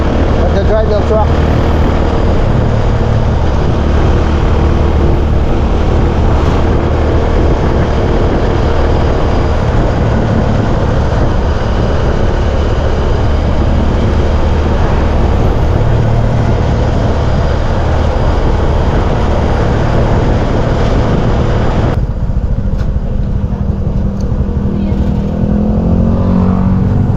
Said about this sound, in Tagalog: Nagda-drive ng truck.